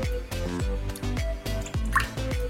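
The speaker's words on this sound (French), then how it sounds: "On va commencer par mettre de l'eau, donc c'est de l'eau du robinet." Tap water pours into a container in quick, bubbly glugs and drips that repeat in a rapid rhythm, close and fairly loud, with no talking.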